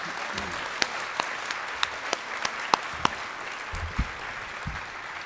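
An audience applauds the inductees at a high school National Honor Society induction ceremony, with steady crowd clapping and distinct sharp claps from nearby hands cracking out above the wash.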